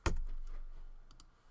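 Keys on a computer keyboard are tapped in a short, soft burst, close by and quiet, in a logo design session with no speech.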